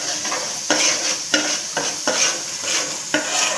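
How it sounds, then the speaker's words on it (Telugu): Masala with coriander powder stirred in a pot for mutton kuska, a spoon scraping in a steady series of sharp strokes over continuous oily sizzling, close and fairly loud with no voices. "ఇవన్నీ వేసి ఒకసారి మిక్స్ చేద్దామండి"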